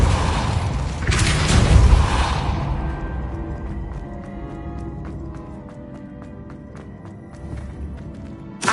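The Depulso spell is cast in a video game, bursting out as a loud booming whoosh that fades into a trail of rattling, ticking mechanical clatter.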